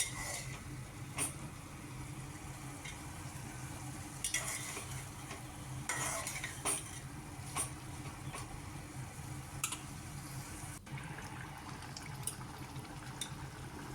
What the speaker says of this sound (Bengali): আলু পটল আমি দিয়ে দিয়েছি, দিয়ে একটু নেড়ে নেব।